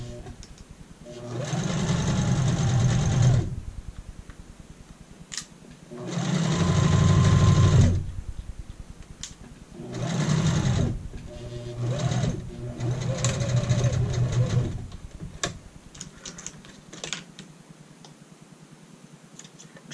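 Sewing machine back stitching a child's shirt at the neck and shoulders, running in four loud bursts of rapid whirring stitches separated by brief pauses, then falling quiet near the end.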